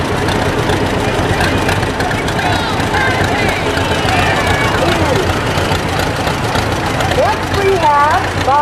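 John Deere B tractor idling in a small-town parade, a low steady engine chug under crowd babble, with a voice speaking over a loudspeaker.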